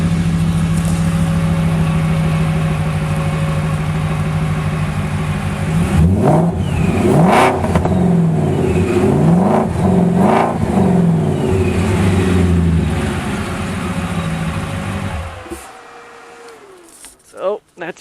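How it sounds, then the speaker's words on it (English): A supercharged Nissan GT-R engine revs in several sharp bursts with a rising supercharger whine, loud and close, then cuts off near the end. "when you stand on it, that supercharger really spools up. You can hear it."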